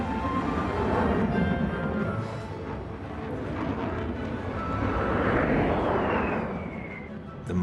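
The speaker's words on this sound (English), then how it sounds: "That veteran of the Cold War, the Lockheed SR-71 Blackbird spy plane." A Lockheed SR-71 Blackbird spy plane roars past at an air show, a loud sustained jet rumble that swells and sweeps in pitch as it passes, with a voice heard over it.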